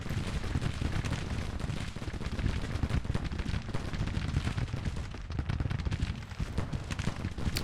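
Artillery and musketry rumble without pause in a Grand Tactician: The Civil War battle, a dense, continuous roar of distant booms and crackling volleys that holds steady throughout.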